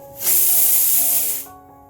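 A pressure cooker vents a loud, steady hiss of steam for about a second and a quarter, the burst starting abruptly and cutting off with faint tonal ringing around it.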